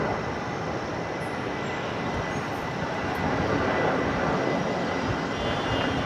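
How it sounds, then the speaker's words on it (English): Jetstar airliner at Brisbane Airport, a steady broadband engine roar that holds constant and fairly loud throughout, with no voices. "see if we can pick up this Jetstar to Newcastle"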